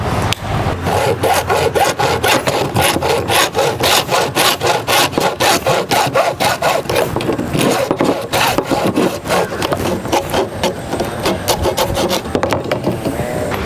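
PVC pipe being hand-sawn to make an orchid pot: loud, close, rhythmic back-and-forth rasping strokes that repeat steadily throughout, with no talking.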